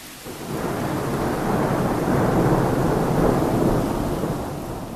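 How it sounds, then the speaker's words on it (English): Heavy rain and a rolling rumble of thunder from a full thunderstorm, a broad wash of noise that swells toward the middle and eases off, steady and close, with no voices. "It turned into a full-blown thunderstorm."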